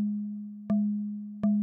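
An Audible Instruments Resonator module in VCV Rack, set to a hollow, dark wood-like material, gives repeated struck tones: two sharp plucks about three-quarters of a second apart, each ringing as a steady low pitch that slowly fades.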